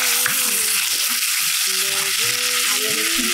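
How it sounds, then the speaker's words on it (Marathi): Ginger, garlic and coriander paste with cumin and asafoetida frying in oil in a kadai, a steady dense sizzle close by, with faint scraping tones from stirring running through it. "आलं लसूणची पेस्ट परतून घेतल्यावर"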